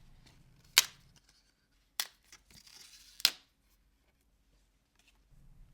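Excess paper border being torn off a Canon Selphy CP1500 photo print: three sharp, close tearing snaps spaced about a second apart, each a brief crisp rip, with quiet gaps between.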